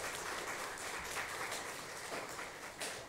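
Sustained applause from a church congregation at a Korean Sunday morning service in Chile, steady dense clapping filling the room from start to finish at moderate level.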